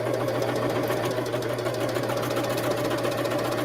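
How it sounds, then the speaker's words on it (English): A serger sewing machine runs at speed attaching beads to fabric, a steady close rapid mechanical chatter with a low motor hum throughout and no talking. "when I get going, the serger, once it's attached the beads to the fabric"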